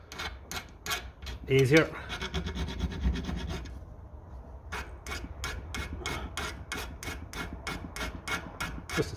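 A hand file rasps a Lucas starter motor bushing on a 1957 Ferguson 35 TVO tractor in quick repeated strokes, first busy and overlapping, then a steady evenly spaced rhythm, with a brief word spoken partway through.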